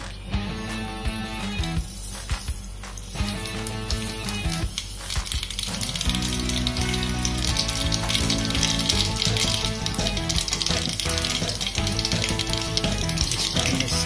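Steady hot-oil sizzling and crackling of a sesame-seed tempering in a pan over low heat, for dhokla, continuous and close, with some clinks and background noise mixed in.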